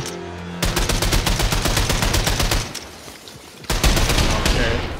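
Rapid automatic gunfire in the video game Wolfenstein II: The New Colossus, loud dense bursts of shots that stop briefly and then resume, no talk.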